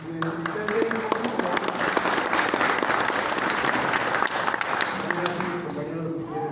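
Sustained applause from a crowd gathered at a state legislature session, dense steady clapping filling the whole stretch with voices talking underneath.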